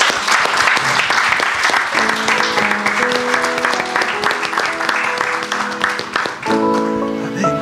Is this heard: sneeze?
no